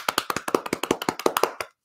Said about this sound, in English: My daughter's clapping.